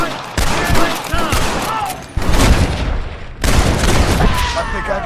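Heavy gunfire erupts in the video game Red Dead Redemption, loud bursts of overlapping shots and booming reports in three main waves, with shouting voices mixed among the firing.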